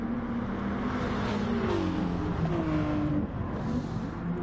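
Gr4 race cars at the Nurburgring GP circuit in Gran Turismo Sport, engines droning steadily with pitch rising and falling through gear changes as they brake and accelerate, loud and continuous without talk.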